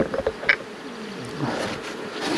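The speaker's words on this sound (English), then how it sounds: "Got a lot of bees on the lid here." Honey bees buzz around an opened hive lid during a move to heather, a dense close hum with a few sharper knocks and rustles near the start.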